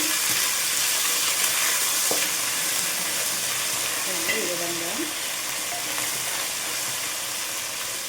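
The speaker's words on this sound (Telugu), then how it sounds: "వేసుకొని ఇది కూడా పచ్చివాసన పోయేంత వరకు వేయించుకోవాలండి" Constant hiss and crackle of ginger garlic paste frying in hot oil for a chickpea masala curry, with occasional faint scrapes of stirring and a brief spoken phrase.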